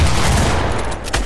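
Sniper rifle fire in a video game: a loud, close burst of gunfire filling the short stretch, with a sharp crack near the end.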